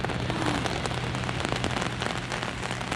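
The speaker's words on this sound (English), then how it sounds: "I was a little sad that it's raining." Steady rain falls across the full span in a French Riviera setting, a dense, even patter of drops on surfaces with no voices.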